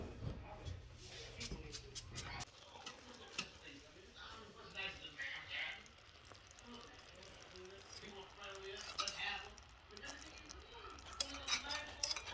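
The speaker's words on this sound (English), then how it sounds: "Then we're gonna whisk that together." A whisk scraping and clinking against a bowl as pound cake batter is mixed, a quiet irregular clatter of strokes that runs on and off, with a person talking over it.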